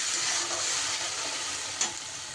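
Onion, tomato and green chilli paste frying in a pan gives a steady, even sizzle throughout, with one brief louder splutter near the end.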